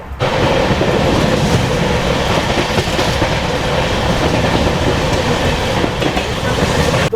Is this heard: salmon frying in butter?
no